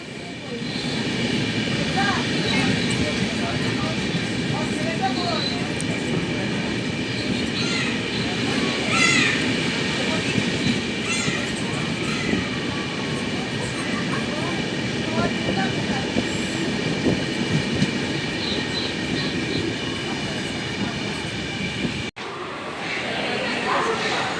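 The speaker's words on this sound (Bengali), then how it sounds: "আমাদের ট্রেন পার করছে এখন বর্ধমান জংশন" An express passenger train rumbles steadily along the tracks past Bardhaman Junction, loud and continuous for over twenty seconds, the noise dipping briefly just before the end.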